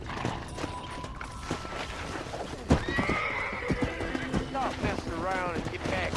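In the video game Red Dead Redemption, a horse whinnies loudly, with rising and falling neighs, over steady clip-clopping hooves and shouting voices amid busy background noise.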